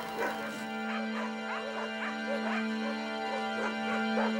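Many dogs bark and yip together at a large dog shelter on open ground beside a forest near Moscow, a busy, overlapping chorus of barks with some whimpers, moderately near, over a steady hum.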